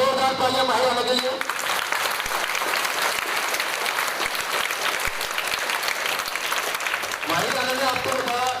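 Loud, sustained applause from an audience at a school event in Khatima, Uttarakhand, honoring a ninth-grade student for her speech on Ambedkar Jayanti, with dense clapping that continues steadily and some voices heard at the start and end.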